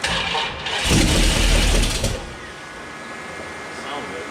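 A small block Mopar V8 with an exhaust leak cranks and catches, roaring loudly for about a second before settling to a lower, steady idle.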